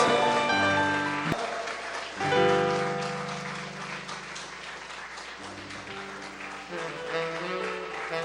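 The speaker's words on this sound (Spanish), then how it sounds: "Denle aplausos al Rey de Reyes, al Señor de Señores." Church congregation applauding after the pastor calls for praise, a steady dense wash of clapping that swells and fades, with musical tones and a voice sounding over it.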